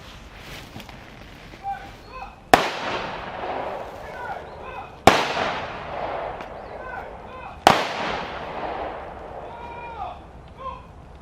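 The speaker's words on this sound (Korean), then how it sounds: "의장대 조총 발사!" An honor guard fires a rifle salute at a memorial ceremony for fallen special forces soldiers, three sharp volleys spaced evenly a few seconds apart, each echoing and fading outdoors, with faint voices in between.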